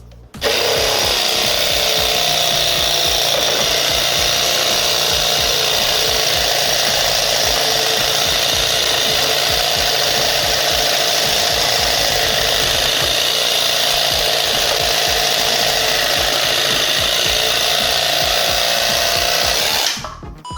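A jigsaw fitted with a Lenox blade cuts through wood, a loud continuous buzzing rasp that starts abruptly, holds steady for about twenty seconds and then stops.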